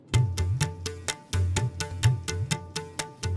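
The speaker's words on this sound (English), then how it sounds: "the tabla mridangam loop sounds like this" A looped Indian classical percussion pattern of tabla and mridangam plays steadily alone, with crisp repeated strokes over deep resonant bass thumps in a tight, even rhythm.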